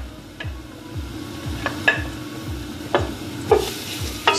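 Garlic frying in oil in a pan for Filipino paksiw na pata, a steady hiss and crackle with a few sharp utensil clinks and scrapes against the pan scattered through, no talking.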